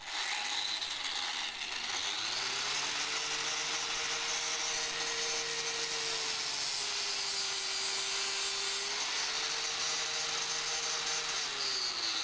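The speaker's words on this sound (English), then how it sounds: "For cracks, flappy discs like this are awesome, because it means you can see what you're doing through the disc when it's working." An angle grinder with a flap disc grinding a crack in a Thornycroft Antar Mk3 engine block, a loud continuous whine that rises in pitch early on and holds steady with slight dips.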